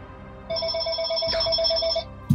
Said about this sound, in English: Wouldn't be one of our sessions without the phone ringing.